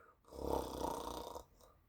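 A storyteller's voice imitates a giant snoring: one long, deep, rumbling snore that swells and fades, close and alone, followed by a faint breath.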